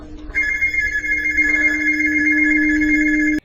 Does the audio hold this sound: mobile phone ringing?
yes